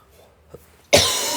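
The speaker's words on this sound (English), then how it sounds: "a cough." A single sharp, loud cough bursts out close by after a faint throat sound, during a massage session in a Bangkok parlour.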